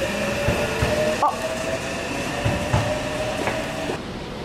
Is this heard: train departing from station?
yes